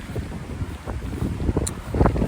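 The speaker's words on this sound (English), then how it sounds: "Sorry about the wind." Heavy wind buffets a microphone outdoors, a continuous rough low rumble with gusty bursts, no voice heard.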